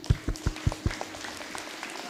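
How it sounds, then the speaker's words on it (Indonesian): An audience at an Isra Mi'raj gathering at a Qur'an memorisation boarding school claps in several spaced, steady beats that soon fade into light scattered applause. "Tolong minta aplaus buat Pak Haji Amir Taufan."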